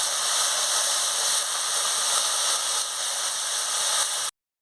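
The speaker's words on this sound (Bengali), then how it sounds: "এবার আমি টমেটো কুচিও দিয়ে দিচ্ছি। দিয়ে মশলার সঙ্গে ভালো করে কষিয়ে নিচ্ছি।" Chopped tomato and coriander frying with spices in a pan for pabda fish curry, a steady close hiss and sizzle that cuts off abruptly near the end.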